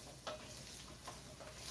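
Squash being sautéed in a pan with browned garlic for pinakbet, giving a steady faint sizzle broken by a few soft stirring scrapes, with no voices.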